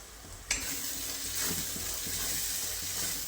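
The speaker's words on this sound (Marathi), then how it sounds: "आता छान असं परतून घ्यायचं कमी गॅसवरती आपल्याला मसाला परतून घ्यायचा आहे" Spice masala of homemade red chilli powder, cumin powder and turmeric sautéed in a pan on a low flame for dum aloo, a soft steady sizzle with a sharp clink at the start and gentle stirring scrapes, with no speech.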